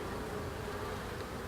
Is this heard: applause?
no